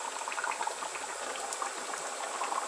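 A pot of Nigerian tomato stew bubbles and sizzles steadily at a simmer, a continuous close crackling hiss of boiling liquid with no talking, though no separate pouring splash stands out.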